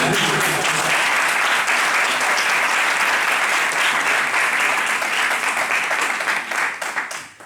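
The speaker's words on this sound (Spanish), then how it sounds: "Ahora le damos un aplauso" A concert-hall audience applauds the Orquesta de Extremadura after a performance, a dense, steady wash of many hands that carries on loudly before thinning and fading near the end.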